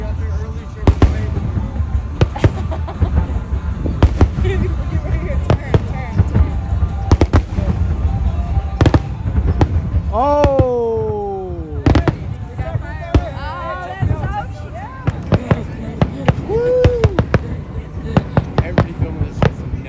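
Fireworks display after a Chicago Fire soccer game, with sharp repeated bangs and crackles popping throughout, close and loud, while people nearby talk and exclaim over them.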